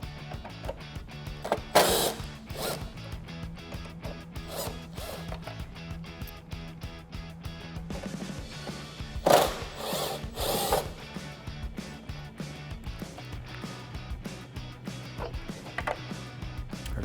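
A power tool fitted with a T40 Torx bit drives bolts out of a Jeep Wrangler JL's body in short, close whirring bursts over a low background hum, with a few clicks and clunks between them.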